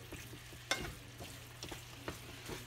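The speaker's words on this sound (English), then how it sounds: "I want to get that olive oil all over the meat, so I gotta stir it around pretty good" Lean venison being stirred in olive oil in a pan, a soft sizzle with a few distinct scraping knocks of the utensil, close and fairly quiet, with no speech.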